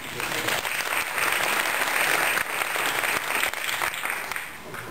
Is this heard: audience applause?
yes